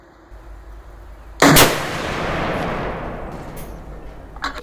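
A single loud Alamo Precision rifle shot cracks sharply partway through a five-shot group at the range, then rolls off in a long fading echo, with a faint clatter near the end.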